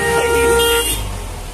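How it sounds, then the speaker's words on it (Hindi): Road traffic with a car horn honking on a hill road near Kempty Falls in Mussoorie, Uttarakhand; a loud, sustained horn tone sounds close by over engine noise and passing vehicles, then fades as the traffic rolls on. "बाइक जा रही गाड़ी।"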